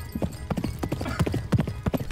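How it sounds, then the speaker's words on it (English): A horse gallops in a country music video, its hoofbeats a quick, steady clip-clop rhythm that stays close and fairly loud for the whole stretch. "That's a horse. That is a horse."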